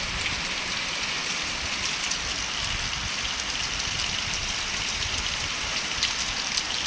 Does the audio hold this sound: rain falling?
yes